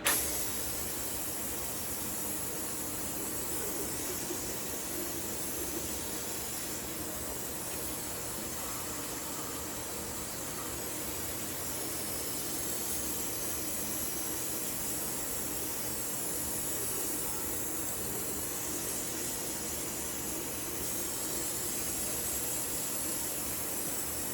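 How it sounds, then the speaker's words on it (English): A steady, loud hiss runs without a break as degreaser is sprayed over a Chevy 305 engine during a teardown, with no talking. "let me get some degreaser"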